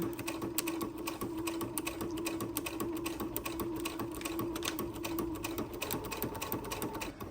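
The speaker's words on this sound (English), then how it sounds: "I'm gonna backstitch into the stitches that I already stitched. Okay, now I'm gonna go forward." A sewing machine runs forward in a steady, continuous mechanical whir with rapid needle clatter, stitching a shaker plate pocket. It stays close and even throughout, with no talk.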